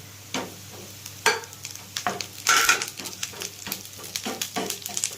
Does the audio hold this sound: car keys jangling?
no